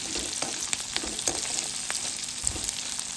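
Chopped onions and carrots sauté in a pan for Karachi nooka upma, giving a steady close sizzle marked by occasional light clicks of stirring.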